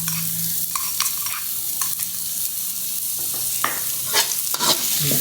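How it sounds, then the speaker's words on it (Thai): Garlic and shallots frying in hot oil as the base of a Thai stir-fried pork chili paste, a loud continuous sizzle with stirring scrapes and clinks from the pan. "เดี๋ยวเราเจียวให้หอมก่อนนะะ"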